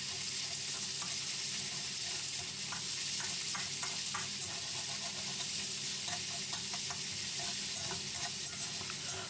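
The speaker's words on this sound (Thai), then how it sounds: "จากนั้นนะครับผมก็จะผัดหมูให้สุกก่อนนะครับ" Pork and garlic stir-fry in a hot pan with a loud, continuous sizzle, broken by irregular scrapes and clacks of a utensil as the meat is tossed, with no talking.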